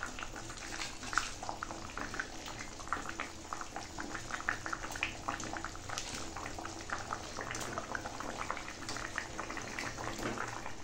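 Thin, light fish curry broth for invalids, made with bata fish in little oil, simmers with the fish just added: a steady, soft bubbling and burbling boil, fairly quiet and continuous with no talk.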